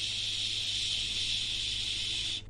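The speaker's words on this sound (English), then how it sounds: "you fill up very well and releasing the SH sound like this." A sustained, steady "shh" breath release from a voice-training exercise, loud and even for over two seconds before cutting off abruptly.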